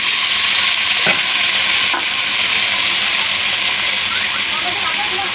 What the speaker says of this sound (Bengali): দিয়ে ভালো করে নেড়ে চেড়ে ভেজে নেব